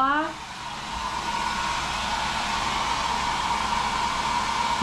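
A hair dryer blows in a steady, loud, broadband whoosh that holds unbroken from start to finish.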